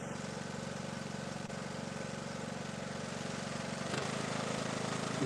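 A small tractor engine, run without its cooling shroud and smoking heavily, idles steadily with a continuous low, even drone that stays constant and close throughout, with no talk over it.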